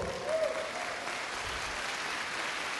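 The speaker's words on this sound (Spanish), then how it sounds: "¿Por qué no le das un aplauso al Señor?" Congregation applauding in a church service, a steady broadband wash of clapping filling the whole stretch with a faint tonal voice or instrument briefly near the start.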